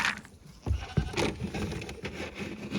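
Goats bleating at feeding time on an Alaskan homestead while alfalfa pellets and goat ration are handed out, with a few short close bleats over a busy background of rustling and knocking.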